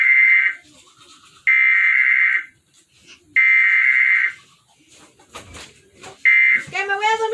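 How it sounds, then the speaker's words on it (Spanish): A smoke alarm shrills in loud, repeated electronic blasts with pauses between them, while people talk in the gaps and under the tones. "¿Me voy a dormir con la alarma todo?"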